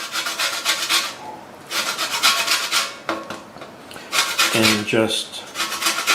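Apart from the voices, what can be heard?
grating the skin off a lemon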